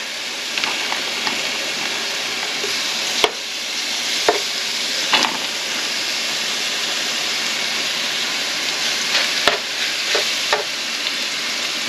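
Strips of steak fry in small batches in a hot pan, giving a steady loud sizzle with occasional sharp pops and clatters as pieces are stirred and moved.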